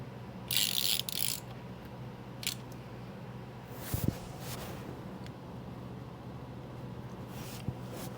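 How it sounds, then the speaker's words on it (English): Stubby ratchet reinstalling an oil drain bolt on a Honda Goldwing motorcycle, with a couple of brief clicking bursts and scattered light mechanical ticks over a quiet background. "I'm going to just use my little stubby ratchet to reinstall the drain bolt"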